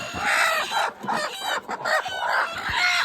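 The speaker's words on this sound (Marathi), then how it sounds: "प्रत्येक डब्यामध्ये कोंबडी" Several native village hens cluck and squawk in overlapping bursts close by on a poultry farm, a busy, continuous chatter with occasional louder calls.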